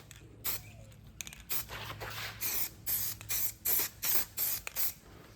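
A spray can of clear coat hisses in a series of short bursts outdoors in wind, about eight steady sprays separated by brief pauses, close and fairly loud.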